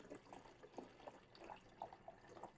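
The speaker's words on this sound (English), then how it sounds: "I am going to pour about a third of water" Water poured into an empty plastic sensory bottle, a faint, close trickle of splashes and small glugs arriving in uneven bursts, with no talking.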